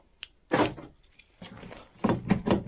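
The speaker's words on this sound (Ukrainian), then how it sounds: "зачиняємо двері" Driver's door of a VW Golf being shut after a lock replacement, a sharp close heard up close, followed by a few further latch clicks and knocks as the door is worked.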